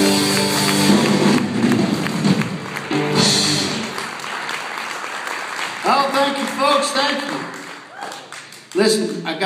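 Live audience applause following a country song, a broad wash of clapping that rises, thins and swells again, with voices talking over it.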